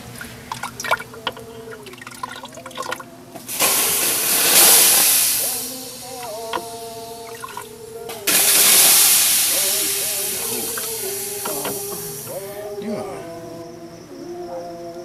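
Water poured onto hot stones in a sweat lodge throws off two loud bursts of hissing steam that fade slowly, with tonal singing or chanting voices heard between and under them.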